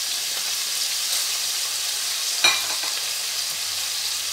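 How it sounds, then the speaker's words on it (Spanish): Meat sizzles steadily in a paella pan as onion and garlic are added, a loud, continuous frying hiss with one brief clatter partway through. "Cuando ya empieza ya a cambiar así el color, vamos a añadir la cebolla y el ajo"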